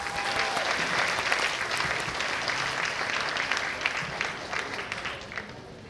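Sustained audience applause for a performer at a concert event, dense and fairly loud clapping from many hands that holds steady for several seconds before thinning out toward the end.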